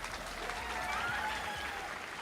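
A convention crowd at a comic con cosplay masquerade gives continuous applause, a fairly distant, even roar of many hands clapping that carries on throughout without a break.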